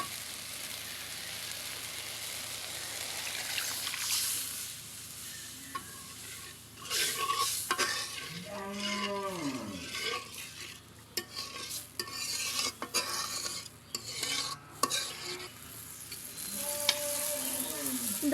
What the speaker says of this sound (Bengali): দই ফুটে আসছে